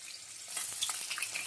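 Pieces of katla fish fry in hot oil with a steady, close hiss and crackle, with sharper sizzling pops bursting through toward the end.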